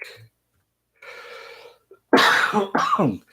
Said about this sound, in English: Excuse me while I cough that one out.